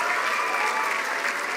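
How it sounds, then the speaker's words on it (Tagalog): A large crowd at a senior high school graduation ceremony bursts into loud, sustained applause, dense and even throughout. "malakas na palakpak."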